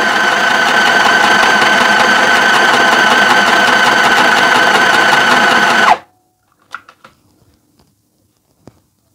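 A handheld mini sewing machine running at a steady rapid whir for about six seconds, then cutting off abruptly, followed by a few faint clicks and handling taps.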